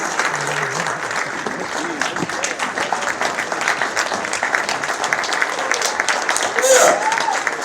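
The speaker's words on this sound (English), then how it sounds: "Give them a round of applause, please." An audience applauds a group of young men, a steady wash of clapping from many hands lasting several seconds, with a brief voice rising over it near the end.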